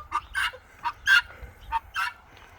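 Ducks, chickens and other fowl gather around corn scattered on an Idaho property, giving about six short, honking calls in an uneven rhythm at moderate distance, with no talking.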